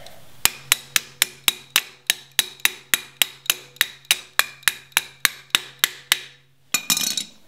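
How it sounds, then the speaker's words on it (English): Around twenty sharp, evenly spaced whacks ring out close by as a part is knocked down into place, followed by a brief rustle. "whack it down."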